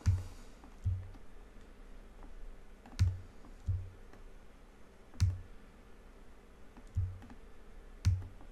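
Single mouse clicks while modeling in Maya, sharp and close, spaced irregularly about a second or two apart over a quiet room hum.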